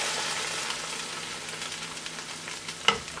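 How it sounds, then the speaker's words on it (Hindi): A hot tempering (baghar) of oil and spices poured over green hariyali dal hisses in a steady close sizzle that fades gradually, with a small clink near the end. "अब आपने जो है इस गरम बघार को इसके ऊपर डालना है।"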